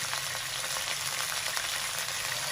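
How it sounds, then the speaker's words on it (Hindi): Steady, close sizzling of chicken sautéing in a hot pan with ginger-garlic paste, a continuous crackling hiss with no voices. "और इसके साथ हम इसकी चिकन को सौते कर लेंगे।"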